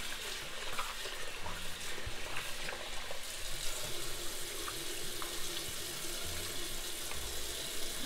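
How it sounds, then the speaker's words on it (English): Tap water runs steadily into a mug of lentils being rinsed at a kitchen sink, a continuous close splashing hiss with small knocks and shifting grains underneath, no talking. "So just under the tap water."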